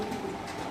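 Racer pigeons in cages, a short low cooing murmur over a continuous background hum, moderately near.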